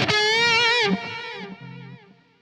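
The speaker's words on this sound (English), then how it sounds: "That delay, that's the delay, that echo." A sustained electric guitar note rings out bright and loud, then cuts off as delay echoes repeat it, fading step by step until quiet.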